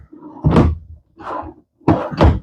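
Drawers in the kitchen island of a 2020 Grand Design Imagine 2970RL travel trailer thump and clunk as they open and shut, three or four solid knocks close by, with no talk.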